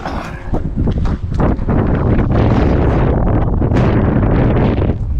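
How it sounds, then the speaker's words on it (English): Strong wind buffeting the microphone outdoors on Chatham Island, loud rumbling gusts that swell and hold throughout. "It's going to be windy."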